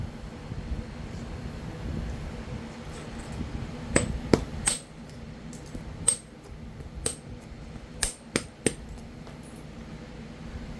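A stone projectile point is flintknapped by indirect percussion outdoors, a series of sharp, isolated clicking strikes spaced a second or so apart over a soft windy background.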